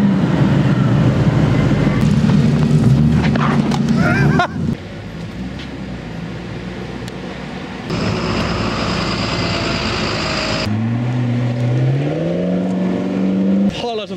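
A supercar engine with its exhaust valves open revs loudly nearby in a busy street setting, a deep roaring burst that drops off, then climbs again in rising pitch sweeps near the end, with people talking around it.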